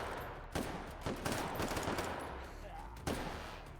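Rapid video-game gunfire during a competitive stealth clear in a multiplayer shooter match, with bursts of automatic shots and sharp cracks at about 0.5, 1.1 and 3.1 seconds over a busy, noisy background.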